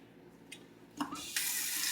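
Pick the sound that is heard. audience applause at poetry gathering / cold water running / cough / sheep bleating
cold water running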